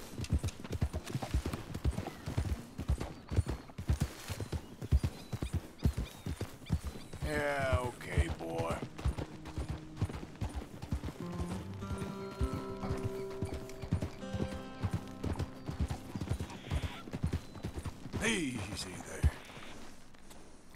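Close, crisp clip-clop of a horse's hooves in Red Dead Redemption 2 keeps a brisk rhythm throughout, with a neigh or whinny rising briefly over it and someone talking at times.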